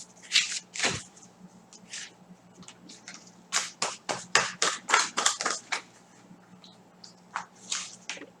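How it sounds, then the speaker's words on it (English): A deck of cards is shuffled close up in a quiet room, with soft riffling bursts and crisp flicks arriving in uneven clusters over a low steady hum. "Let me continue to shuffle the card here."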